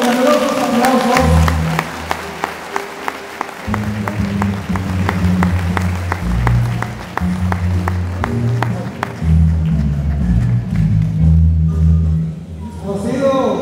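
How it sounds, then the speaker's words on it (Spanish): A crowd applauds the installation of new local authorities at a community ceremony in El Sitio, steady loud clapping that fades near the end while music plays underneath. "Recibámoslos con numerosos aplausos"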